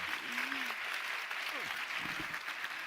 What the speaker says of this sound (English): a warm hand of applause